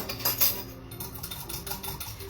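A whisk taps and scrapes quickly against a bowl, beating oil with Dijon into a vinaigrette dressing, a soft, busy clatter of metal close by with no talking.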